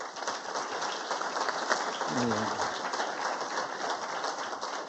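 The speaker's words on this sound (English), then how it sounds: "if you could give them a big round of applause" Applause from an audience at a panel discussion on building resiliency, a steady dense patter of clapping throughout, with a brief low voice murmuring partway through.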